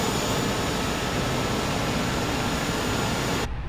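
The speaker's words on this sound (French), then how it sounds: "Là on voit c'est en train de démarrer." Airbus A320 jet engines spinning up in a flight simulator game, a loud steady broadband roar that cuts off abruptly near the end.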